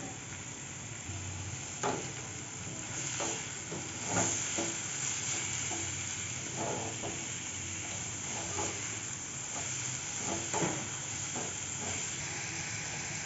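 Grated radish and carrot sauté in a pan for chapathi filling, a steady close sizzle broken by repeated scraping stirs of a spatula, with no speech.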